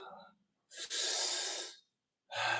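Close breathing during a stretching and strengthening workout: a short breath, then a long, deep, airy inhale or exhale lasting about a second, and another breath starting after a brief pause.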